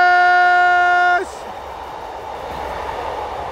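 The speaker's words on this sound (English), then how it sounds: "Train coming. Train coming. You can hear the noise on the rail." A train horn sounds loud and steady, then cuts off abruptly into the broad rumble of the train rolling along the rails, heard outdoors on an evening walk.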